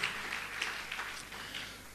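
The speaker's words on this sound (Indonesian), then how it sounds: "Berikan tepuk tanganmu" A church congregation claps during a Sunday worship service, a faint spread of many hands patting together steadily for a couple of seconds with room noise beneath.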